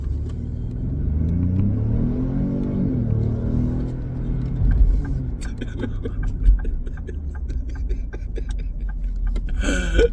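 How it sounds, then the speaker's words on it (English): A car speeds past outdoors near a driveway car wash, its engine rising in a swelling rumble and revving before fading, with scattered clicks and knocks around it. "that dude just sped right by me"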